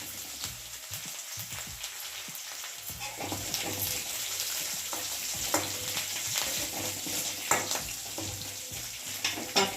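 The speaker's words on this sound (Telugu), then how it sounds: "అలాగే పచ్చిమిర్చి కూడా వేసి వేగిన తర్వాత కరివేపాకు వేయాలి." Green chillies and curry leaves fry in hot oil for a tempering, with a steady close sizzle that thickens after a few seconds, along with occasional stirring scrapes in the pan.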